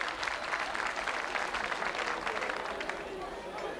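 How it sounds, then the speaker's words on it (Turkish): Dense, steady applause from a crowd at a town cultural and arts festival event, continuous and fairly loud for the whole stretch, with a faint murmur of voices mixed in. "alkış yapmanızı lütfen rica ediyorum"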